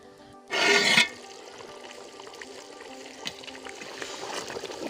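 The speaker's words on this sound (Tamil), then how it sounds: "இந்த ஸ்டேஜில் வந்து இதை வந்து நம்ம வடித்து எடுத்துக்கலாம் அந்த சாதத்தை" Water from parboiled rice for chicken dum biryani is drained off in a short, loud rushing pour that stops after about half a second, followed by quieter trickling and faint clinks.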